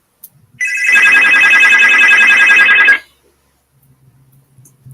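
A telephone ringtone plays loud and alone, a steady electronic ring lasting about two and a half seconds for an incoming call, then cutting off to near silence.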